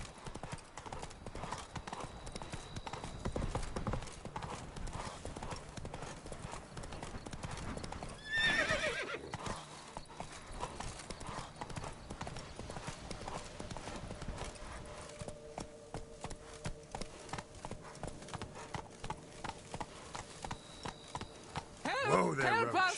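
Roach, a horse in The Witcher 3, gallops with rapid rhythmic clip-clopping hooves throughout, a whinny rising midway, with game voices and ambient sound mixed underneath.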